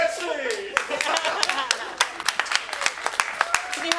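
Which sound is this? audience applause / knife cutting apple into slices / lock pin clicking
audience applause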